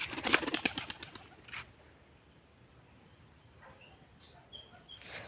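A pigeon is released and flies off, with a quick burst of wing claps and flapping up close that fades out, followed by quiet ambience and a few faint calls and noises near the end.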